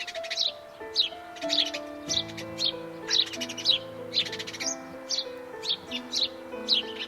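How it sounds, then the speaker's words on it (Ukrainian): Sparrows chirp in quick repeated bursts, several birds calling close by over a soft musical background with no talking. "Подивіться, які горобчики. Маленькі, сіренькі, швидкі, стрибають дуже вправно. А як вони співають? Ось послухайте малята."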